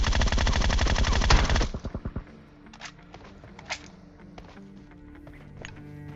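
Enemy gunfire in a battle royale video game, a loud rapid burst of automatic fire up front that breaks into a few single shots, then scattered distant pops and faint footsteps.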